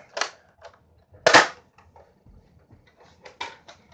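A Captain America Nerf toy pistol fires in sharp, dry clicks and snaps: a couple of strong shots with scattered lighter mechanism clacks between them, close up in a quiet room.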